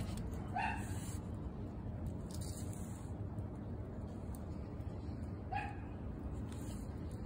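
Two short yips from a pit bull, a few seconds apart, over a steady low background rumble.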